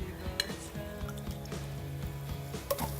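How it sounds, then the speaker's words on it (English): A slotted spoon scoops tofu out of a pan for Kung Pao tofu, with a series of light metallic clinks and scrapes over a soft background sizzle, close and fairly quiet. "We're gonna go back to our tofu, remove it with a slotted spoon"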